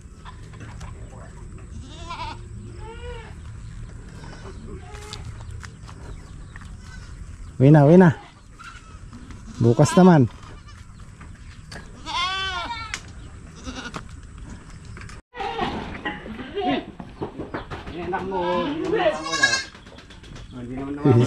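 Goats bleat repeatedly on a Philippine farm, several loud nearby calls with wavering tremolo spaced every few seconds, mixed with people talking and background farm noise.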